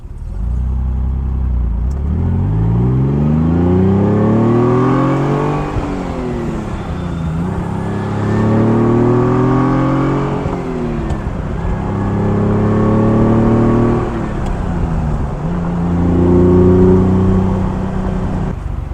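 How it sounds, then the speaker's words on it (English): Ferrari Dino engine revving in repeated throttle blips during downshifts, each burst rising and falling in pitch, loud and close, with steady engine drone between blips and no talking. "Yes, I blipped the throttle, but still, that was not possible before."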